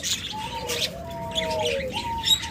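Caged pet lovebirds or cockatiels chirp with thin whistled tweets and short sliding calls, several overlapping nearby against soft background noise.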